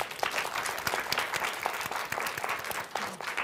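Audience at a youth talk event in Macau applauds a panel, a moderately loud patter of clapping with individual sharp claps standing out, fairly close, continuing briefly without speech.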